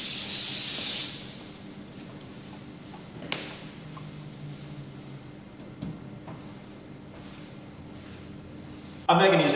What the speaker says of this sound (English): use our solvent cleaner to remove any waxes or polishes from the surface